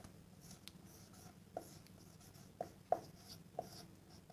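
Marker or chalk writing a formula on a board, faint scratchy strokes with a few sharp taps spaced irregularly, quiet and close with no talking.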